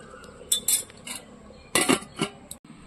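A metal lid clanks back onto a pot of handi mutton, close and clear, with a few bright clinks, a pause, then a louder cluster of rattling metallic knocks.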